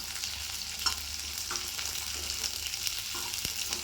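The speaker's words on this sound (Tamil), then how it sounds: "ஒரு 2 நிமிஷம் வதங்கட்டும்" Onion, garlic and tomatoes sautéing in a pan give a continuous bright sizzle and crackle, close by, with a few faint stirring scrapes and no voices.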